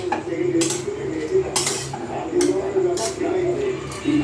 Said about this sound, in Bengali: ভালো করে নেড়ে দিই, নুনটা আর হলুদটা যাতে ভিতরে ঢুকে যায়।